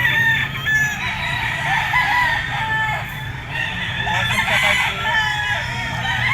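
At a busy market selling gamecocks, several fighting roosters crow and cluck at once, some close and some farther off, in overlapping calls over a steady crowd murmur.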